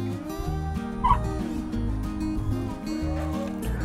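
Young female Texas red turkeys near the Rio Grande gobble over a steady low background, with one louder, brighter burst of calls standing out partway through.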